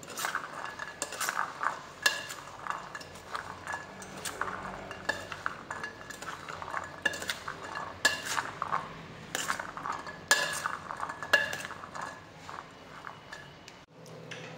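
Boiled chana is stirred with coriander powder in a weight-loss recipe. A metal spoon scrapes and clinks steadily against the pot in busy, irregular strokes nearby, with no voices.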